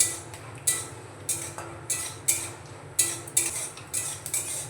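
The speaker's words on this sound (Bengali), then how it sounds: "কালো সরষেটা ফাটতে শুরু করেছে।" Black mustard seeds splutter in hot oil with cumin, a string of sharp, bright pops and ticks landing every half second or so over a low, quiet background.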